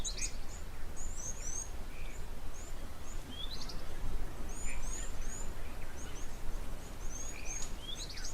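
Several bird species call at an African waterhole, thin chirps and whistles scattered over a steady outdoor rumble of wind and distant ambience, no talking.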